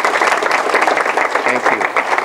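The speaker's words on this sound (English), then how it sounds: "give it all those volunteers a round of applause for all the great work" Applause for volunteers at a tennis association annual meeting, a steady patter of many hands clapping with a voice faintly audible beneath it.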